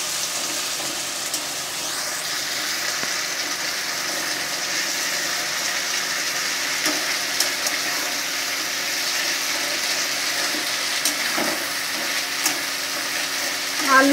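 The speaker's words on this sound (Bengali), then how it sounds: "আলুটা আমার ভাজা হোক" Potatoes fry in hot oil with nigella seeds for a Bengali parshe fish curry, making a steady, close hiss and sizzle with occasional small crackles and stirring noises.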